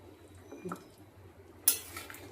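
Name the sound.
stirring fish curry in a pot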